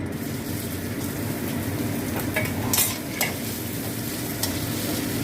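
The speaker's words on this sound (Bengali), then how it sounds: "এবার একটু তেল দিচ্ছি, দিয়ে এই পেঁয়াজ কুচোনোটা আমি ভেজে নেবো" Chopped onion frying in oil in a pan, a steady dense sizzle with a few louder stirring scrapes, close and continuous with no talking.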